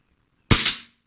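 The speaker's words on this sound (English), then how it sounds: "Shooting a 28 grain slug from 40 yards out." A single sharp crack from a JTS Airacuda Max PCP air rifle firing a 28 grain slug, close and brief, after a moment of silence and fading quickly.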